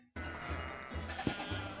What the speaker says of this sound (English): Helping the goats.